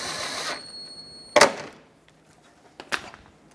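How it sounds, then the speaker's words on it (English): Fastening a transmission oil cooler back onto a 2003-2021 Chevrolet Express 3500 van gives two sharp, isolated metallic clunks about a second and a half apart, after a brief high hiss, in an otherwise quiet space. "Let's bolt it back up on the corners."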